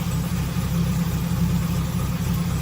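An old car's engine idling on its own after sitting unused for a month, a steady low rumble with an even, pulsing rhythm close by, no one speaking.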